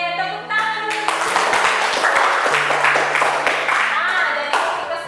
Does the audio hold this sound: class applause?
yes